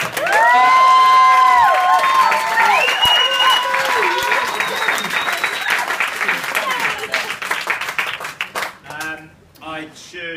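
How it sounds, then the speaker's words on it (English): Wedding guests applaud and cheer the bride, a loud burst of clapping with whoops and high excited voices on top, fading over the last few seconds. "One more round of applause for the bride."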